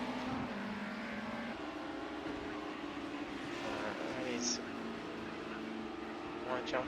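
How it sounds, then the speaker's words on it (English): Touring car engines roar in a sim racing game at Silverstone International, a sustained loud drone that stays fairly steady over several seconds, with commentators talking over it. "These cars make a good roar."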